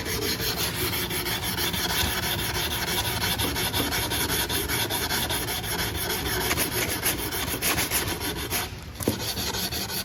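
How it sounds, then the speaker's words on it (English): A sanding block rasps back and forth over wood to knock down a bump, producing a steady, close scratching with an even rhythm that continues for the whole stretch and includes a brief pause near the end. "my thought is I'm using the block to knock the bump off"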